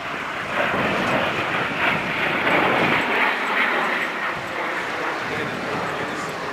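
An airplane passing overhead at an air show, a steady broad engine roar that stays loud and constant across the whole stretch, with outdoor wind and crowd ambience beneath it.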